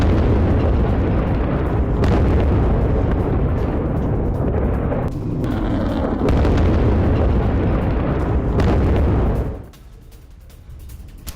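Missile strikes hitting the Stella Maris base at night, heard as a loud, dense, continuous roar of blasts and rumbling that persists for most of the stretch before abruptly dropping to a quieter background.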